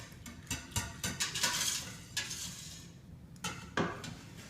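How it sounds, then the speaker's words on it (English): A whisk clinks against the sides of a bowl while stirring oils for cold process soap, close and fairly quiet, in irregular bursts of metallic tapping and scraping with brief pauses. "Getting my whisk and just mixing the oils so they're mixed together."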